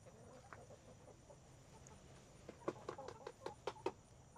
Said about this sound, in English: That's our laying hen there